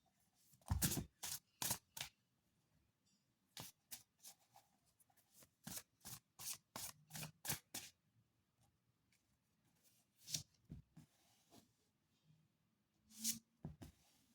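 Tarot cards are shuffled and handled for a reading, giving a series of crisp, close rustling and snapping bursts in short irregular clusters, some rapid runs and scattered single slaps, separated by quiet pauses, with no talking.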